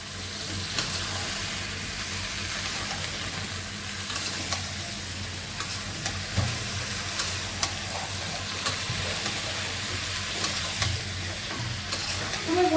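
Vegetables are added to hot oil that has separated from cooking spices, then stirred: a constant, fairly loud sizzle runs throughout, punctuated by light scrapes and taps of a spatula against the pan.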